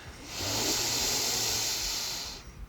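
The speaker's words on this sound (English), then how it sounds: "Take a slow and deep breath in." A slow, deep inhaled breath drawn in steadily for about two seconds during a sound meditation session, a soft airy hiss that swells and then fades, heard alone and close.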